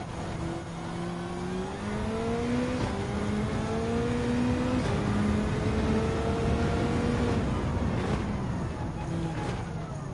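Gran Turismo 7 race car engines hum and whine steadily at the Trial Mountain circuit, with pitch rising and falling through gear changes and cornering over a constant mechanical drone.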